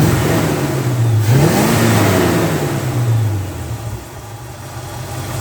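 A carburetor-tuned car engine with an untouched bottom end runs steadily at a smooth idle, close and fairly loud, with a brief blip of revs early on before settling back into an even hum.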